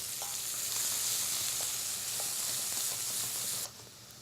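Leeks softening in a pan with a steady, close sizzle and light frying crackle throughout, cutting off sharply near the end.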